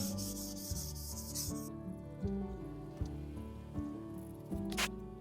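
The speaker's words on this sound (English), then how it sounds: "Now I'm going to take like some 800 grit sandpaper, just get it really, really smooth." Wood of a 1975 Martin D-41 acoustic guitar rubbed with 800 grit sandpaper: soft repeated rubbing strokes under a steady tonal hum, close and quiet, no talk.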